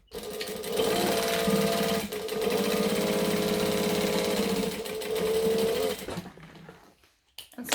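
A sewing machine stitches fabric at a steady, loud, continuous hum for about six seconds, pausing briefly once, then stops abruptly and leaves near silence.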